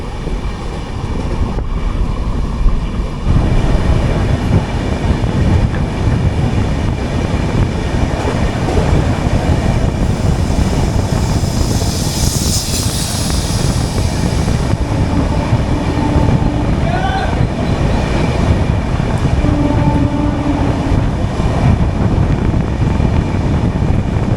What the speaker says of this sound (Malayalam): പട്ന ലോക്മാന്യ തിലക് ടെർമിനസ് എക്സ്പ്രസ് ആണത്.